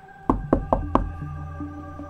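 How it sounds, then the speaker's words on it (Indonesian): Four firm knocks on the door of an expensive-looking double-leaf house, in a steady rhythm, close and loud. After the knocks a low sustained musical tone continues underneath. "mengetuk pintu rumah berdaun 2 yang tampak mahal"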